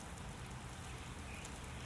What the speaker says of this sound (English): Outside, the rain continues steadily. Tiny droplets race down the glass.